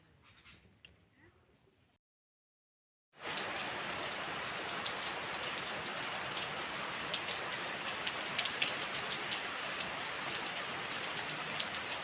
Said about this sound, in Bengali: প্রচুর বৃষ্টি এসছে যে